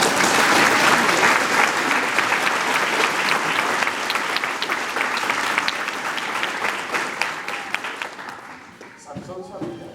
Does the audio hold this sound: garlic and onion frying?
no